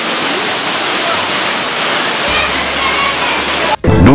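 Santa Lucía waterfall in Chirinos, Peru roars as a loud, steady broadband rush of falling water, close and continuous, with a brief dropout near the end.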